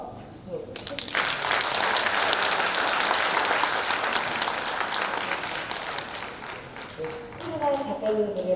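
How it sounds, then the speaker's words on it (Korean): Audience applause fills a photo concert talk in Seongnam, a dense, steady wash of clapping from a seated crowd lasting several seconds, with a speaking voice emerging faintly over the fading applause near the end. "한번 박수 해주십시오"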